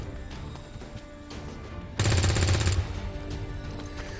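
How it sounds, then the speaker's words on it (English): Gunfire in a turn-based tactical video game sounds as a dense burst of automatic shots lasting under a second, loud and close, over a steady background of game music and ambience. "Couple of 50-50 shots into half cover."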